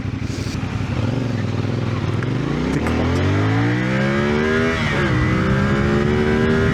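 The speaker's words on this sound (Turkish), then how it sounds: "Şimdi burada size motorun ne kadar hızlı kalktığını göstermeye çalışacağım." A CFMoto 450SR sport motorcycle accelerates hard and climbs steeply through the gears, its engine loud and close with rising pitch, brief dips at the shifts and a roar of wind throughout.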